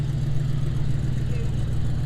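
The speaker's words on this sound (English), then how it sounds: "we've got a Land Rover 110. Listen to that purr." A Land Rover 110 with a V8 engine idling at a classic car gathering, a steady low, even rumble heard up close and continuously.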